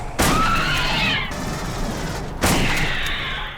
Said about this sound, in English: Later you get fletchet rounds with a slightly different sound and narrower spread